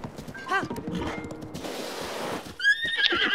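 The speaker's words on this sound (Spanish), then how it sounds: "Hace lo que le da la gana a este caballo." A horse whinnies loudly in the video game The Legend of Zelda: Breath of the Wild, with hoof clip-clops and a second shrill neigh near the end, close and prominent.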